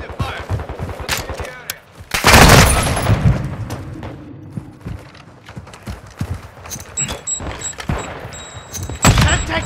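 Gunfire from Call of Duty: Modern Warfare 2 Kill Confirmed, an LMG firing in bursts with a loud heavy volley near the start, mixed with other game action and effects throughout.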